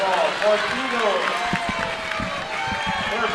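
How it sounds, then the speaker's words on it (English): Crowd noise at a gold championship basketball tournament game, Forest Lake versus CVA, a broad roar of spectators with scattered claps and squeaking shoes running underneath, fairly loud and continuous. "The crowd is loving it."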